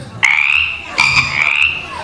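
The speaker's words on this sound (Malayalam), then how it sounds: "ഈയിടെ രാത്രി കുറെ ശബ്ദങ്ങൾ കേൾക്കും, തവള കരണ മാതിരി." Frogs croak at night in three close, loud, rasping calls, each a drawn-out trill about half a second long, with short gaps between them.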